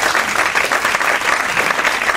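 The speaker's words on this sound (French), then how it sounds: "Alors j'espère que vous allez un peu l'applaudir" Applause from an audience at a business conference on corporate social media use, dense and steady clapping filling the whole moment at close range, with no speech over it.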